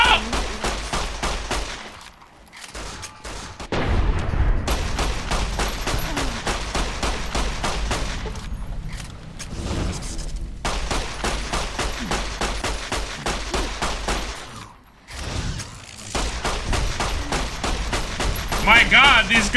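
Sustained, rapid-fire gunfire from Fallout New Vegas, loud and close, with steady strings of shots broken by a few brief pauses as voices talk over the action.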